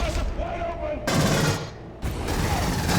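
Loud, close rapid-fire gunfire in the video game Aliens: Colonial Marines, with dense sustained bursts broken by two brief lulls before the shooting resumes.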